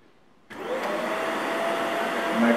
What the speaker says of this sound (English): So when you switch on the vacuum cleaner